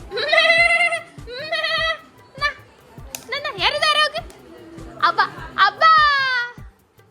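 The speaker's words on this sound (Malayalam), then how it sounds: "അതാ ചെമ്മരിയാട്" Several high, bleating toy-sheep cries in quick succession, with children's voices and clicks mixed in close by.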